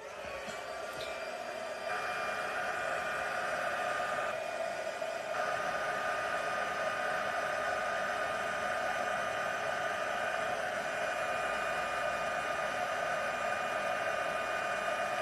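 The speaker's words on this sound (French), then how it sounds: "on a branché notre pistolet chauffant, on se met à la vitesse 2" An electric heat gun runs on its second speed setting, a loud steady close-up blowing roar with a hissing, airy whine that holds constant throughout.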